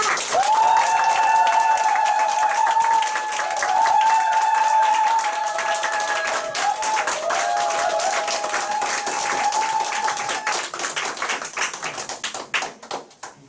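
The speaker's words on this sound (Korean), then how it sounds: "그럼 앞으로 우리 윤서영 사장님 모실 때 큰 박수 부탁드리겠습니다" A crowd at a group meeting applauds loudly to welcome speaker Yoon Seo-young, sustained steady clapping over music with a held tone, lasting many seconds before tapering into scattered claps at the end.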